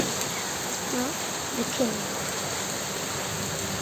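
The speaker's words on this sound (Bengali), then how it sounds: "সুন্দর বৃষ্টি হচ্ছে" Steady rain falls after intense heat, an even close hiss with no pauses, and someone speaks briefly under it.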